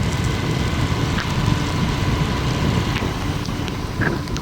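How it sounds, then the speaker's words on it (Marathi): Rain falls during a ride on a moving vehicle, a constant broadband hiss of drops and rushing air mixed with faint road noise, with no talking. "बघा आला पाऊस"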